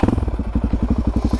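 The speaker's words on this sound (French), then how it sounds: "c'est ça le problème d'avoir une moto qui est un peu bruyante" A loud motorcycle engine sputters in a rapid, choppy idle of regular pulses, close by and alone.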